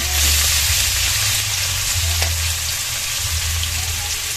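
Chicken liver and gizzard sizzle steadily in a hot pan, a loud close frying hiss with faint stirring and no talking.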